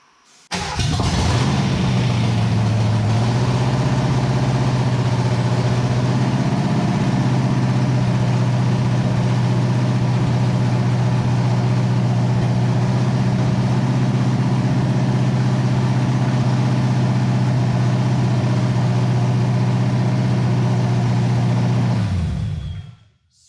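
Ford Mustang Foxbody project car running at a slightly high idle right after its first start, with no exhaust fitted yet; a loud, steady, close engine drone holds for about twenty seconds, with no talking.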